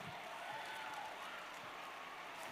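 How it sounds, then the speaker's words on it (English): A room full of people applauding at a keynote talk, steady clapping that stays even and moderately distant throughout. "Give yourselves a round of applause"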